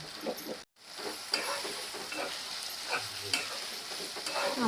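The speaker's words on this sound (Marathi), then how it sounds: "ते असे तेलात गोल्डन होईपर्यंत परतायचे" Chopped onions fry in oil under a steady low sizzle while a spoon stirs and scrapes the pan now and then, with one brief dropout near the start.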